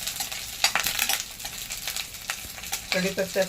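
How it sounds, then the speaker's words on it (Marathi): Garlic sautéing in hot oil for a tempering, crackling and sizzling steadily with intermittent spatula stirs close by, no talk over it. "चांगला परतवून घ्यायचा त्यात म्हणजे ह्या तेलाला ह्या लसणाचा वास यायला पाहिजे"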